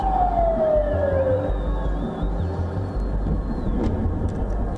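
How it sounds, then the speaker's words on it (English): Loud emergency sirens wail across Israeli cities during a night missile barrage, one long falling tone and fainter rising and falling wails over a dense, steady rumble. "Sirens wail across cities"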